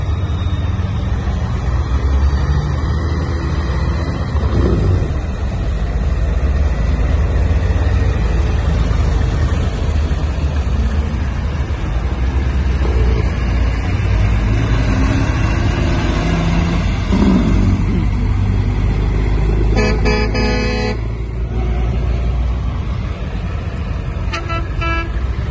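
A Kenworth truck at a showground rumbles with a loud, low engine drone throughout, its horn sounding in a couple of short blasts toward the end amid outdoor crowd ambience.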